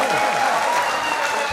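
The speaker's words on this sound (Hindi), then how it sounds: "ताली बजाकर सर का इस्तेकबाल करें" An audience at a mushaira in Umarkhed, Maharashtra claps to welcome a guest, brisk dense applause filling the hall with a voice talking over it.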